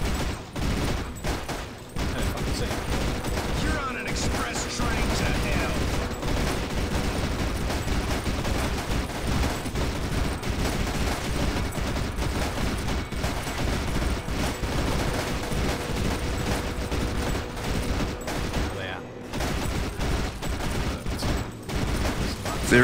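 Sustained gunfire from the World War One horror first-person shooter NecroVisioN, with dense, continuous bursts of shots and heavy low rumble over nearly the whole stretch, loud and close, with only a couple of brief lulls.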